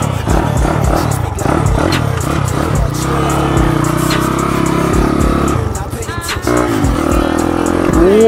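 A small motorcycle engine, a Honda CT70 clone with a Piranha 140 engine swap, revs and idles up close, its pitch rising and falling in bursts, with a brief clatter and a voice speaking faintly over it.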